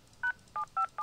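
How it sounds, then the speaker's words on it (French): A telephone in the video game Escape Academy sounds four short electronic tone bursts, each a clean beep spaced evenly about a third of a second apart, loud and alone with no voices. "Le téléphone sonne."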